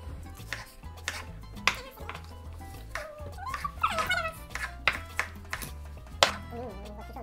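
Knife cutting washed strawberries on a board for a strawberry compote, a series of sharp, close chopping taps at irregular intervals, with a voice and brief giggles in between.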